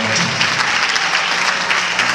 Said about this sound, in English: Let's give the Lord a hand clap of praise as the psalmist comes one more time.